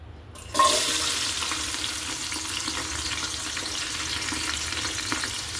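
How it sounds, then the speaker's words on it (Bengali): Chopped onions drop into hot oil in a pressure cooker for Saudi beef kabsa, setting off a sudden loud sizzle that holds as a steady close crackle to the end. "পেঁয়াজ কুচি দিয়ে দিলাম"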